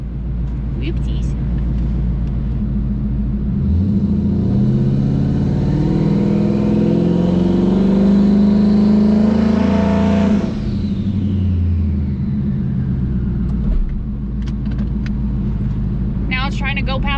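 A twin-turbo Ford Mustang engine revs up through a long rising sweep, holds a loud climbing note, then drops off abruptly near the end, with brief clicks and faint sounds before and after.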